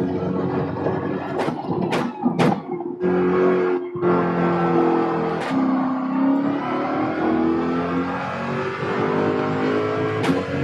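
A Corvette race car in Gran Turismo 7 on the Barcelona circuit, engine revving hard with sharp gear-shift cuts early on, then a sustained droning high-rev pull, with brief tire squeal bursts, loud and close.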